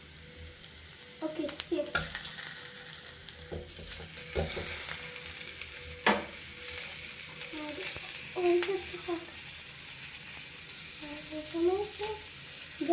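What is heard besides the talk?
tomatoes sizzling as they are added to a paneer curry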